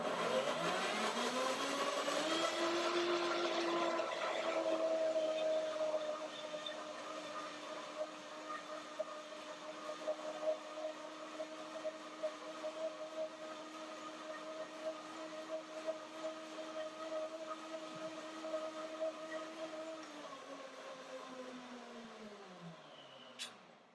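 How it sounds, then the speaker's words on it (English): A Revo blend German blender whirs through cashew yogurt and bananas, loud and rough at first, then settling into a steady high motor whine for about twenty seconds before spinning down to a stop. "This is a German blender. It's a Revo blend."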